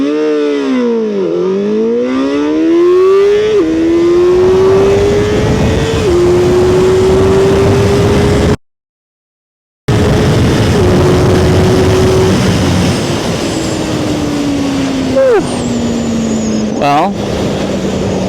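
A CFMoto 675SR-R motorcycle accelerates hard from a standstill to 150, its engine note climbing loud and close through repeated gear changes with brief dips between rising revs, with a short silent gap midway.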